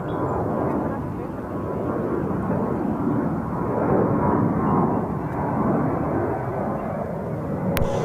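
An American Airlines jet arriving from Fort Lauderdale lands on runway 13 left at JFK, its engines a steady, broad roar that swells gently midway and holds fairly loud and close throughout.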